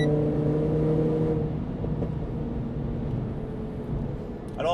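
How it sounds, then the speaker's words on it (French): A Renault Clio IV RS 200 EDC holds a steady engine drone from inside the cabin, its tone gradually shifting as the car accelerates, with a brief shift or click near the end. "Et on va juste faire encore une petite accel."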